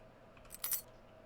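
Train office key picked up in the horror game Lost in Vivo: one faint, short metallic jingle, like keys or a coin, over a quiet background hum.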